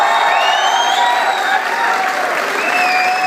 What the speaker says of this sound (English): A huge round of applause for Professor Vivek Kumar